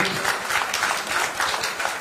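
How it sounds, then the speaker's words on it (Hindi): Indoor audience at an agriculture products training session giving a short round of steady applause to welcome a distributor, close and fairly loud throughout. "एक बार उनका स्वागत कीजिए तालियों से"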